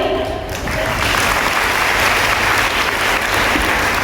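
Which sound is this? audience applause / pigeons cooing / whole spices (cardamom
audience applause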